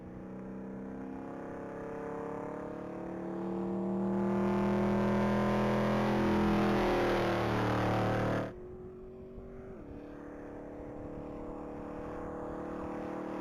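A Mustang race car accelerates at the Texas Mile, its engine whine rising in pitch and loudness as it nears and passes, then cutting off abruptly, leaving a fainter distant engine drone afterward.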